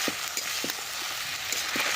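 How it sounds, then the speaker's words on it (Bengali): Ground spice paste of coriander and black pepper, crushed on a grinding stone, sizzles in hot oil in a pan, a steady bright hiss broken by soft rhythmic scraping knocks as it is stirred. "এবার মশলাটাকে খুব ভালোভাবে কষিয়ে নেব।"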